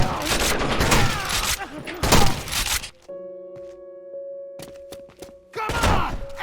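Rapid gunfire from the video game Rainbow Six Vegas 2, dense bursts of shots in two loud stretches separated by a quieter pause with steady tones, with voices talking over the action.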